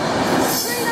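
Class 390 train 390.011 passing a level crossing at a station, a loud close rumble of wagons with squealing wheels and a continuous metallic roar.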